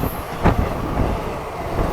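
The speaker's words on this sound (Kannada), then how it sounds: "ಇದು ಬಂದ್ಬಿಟ್ಟು ವಿಜಯಪುರದಿಂದ ಹುಬ್ಬಳ್ಳಿಗೆ ಹೋಗುವಂಥ ಪ್ಯಾಸೆಂಜರ್ ರೀ" A Vijayapura to Hubballi passenger train rolls past as a steady broadband rumble, with a brief louder surge near the half-second mark and low rail noise throughout.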